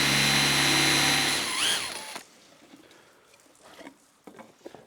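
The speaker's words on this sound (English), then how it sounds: "I'm drilling a hole here in this stick with my 10mm" A power drill with a 10mm Forstner bit whines loudly and steadily for about two seconds, its pitch dipping as the bit bites into a wooden stick, then cuts off, leaving quiet handling noises.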